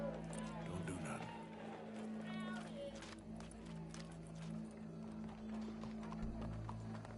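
Horse hooves clip-clopping at a steady gait in Red Dead Redemption 2, moderately loud over a constant background ambience, with game voices talking now and then.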